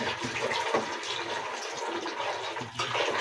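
Water pours into a cooking pot for kadhi pakora, adding about two liters to a yogurt and gram flour mixture; a steady, fairly close rushing splash that runs throughout.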